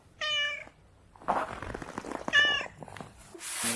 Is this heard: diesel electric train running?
no